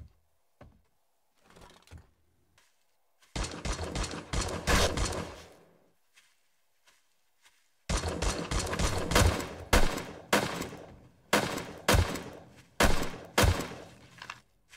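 Gunfire in the 7 Days to Die video game comes in loud, close bursts: a cluster of sharp shots, a pause, then repeated volleys and single cracks with brief silences between.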